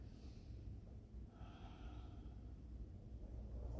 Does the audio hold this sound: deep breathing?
yes